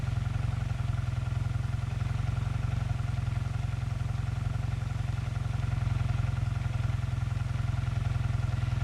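A Yamaha TX750 motorcycle engine idles steadily at close range, a low even drone with a faint rhythmic mechanical patter and no voices.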